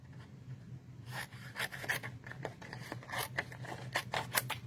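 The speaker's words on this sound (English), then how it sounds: "So we're going to trim off some of this excess." Scissors trim excess paper while making a Christmas card, several close, crisp snips in an irregular rhythm, heard alone.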